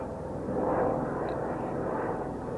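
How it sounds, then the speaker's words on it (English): A scenic tour helicopter passes high over the Grand Canyon, a faint, distant, steady drone that swells slightly and then settles, heard alone without talking. "Look at this helicopter flying overhead."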